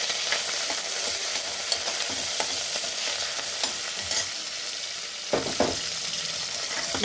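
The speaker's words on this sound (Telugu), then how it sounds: "ఇప్పుడు వెల్లుల్లిపాయ వేగిందండి. ఆనియన్స్, పచ్చిమిర్చి, కరివేపాకు వేసుకుందాం." Garlic, onions, green chillies and curry leaves fry in hot oil for a village-style aloo senagapappu curry, giving a steady loud sizzle throughout with a few faint stirring scrapes and no talking.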